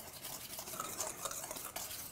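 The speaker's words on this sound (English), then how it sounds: "So what I'm gonna do is just whisk this all together." Whole wheat flour, baking powder and salt being whisked together in a bowl, a steady soft scratchy swishing with quick rhythmic strokes, close and fairly quiet, no voices.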